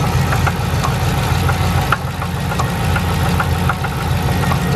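A Dodge Charger SRT8 with the 6.1 engine idles roughly just after starting. It makes a loud, close, steady low rumble broken by uneven knocking pulses, and no one speaks.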